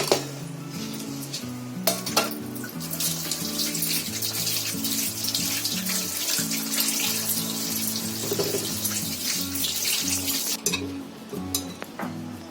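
Sweet potatoes and potatoes get rinsed under a running kitchen tap, with steady water splashing into a sink and repeated clinks of pots and utensils. No voices are heard.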